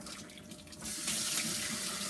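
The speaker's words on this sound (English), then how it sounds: "I have a faucet that turns on with any type of little stuff" A kitchen faucet runs with a close, steady hiss of water, growing fuller and louder as the flow opens up partway through.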